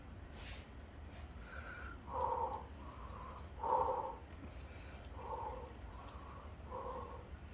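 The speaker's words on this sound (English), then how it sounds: "You have to do yoga breathing." Heavy, effortful breathing while holding the legs down, a series of close, strained breaths with snorting, wheezy catches, repeating in uneven pulses at low volume.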